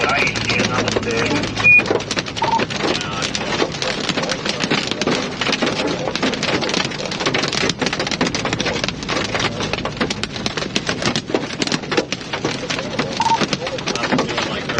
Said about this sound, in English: It's just a lot of pea-sized hail. It sounds a lot worse than it is.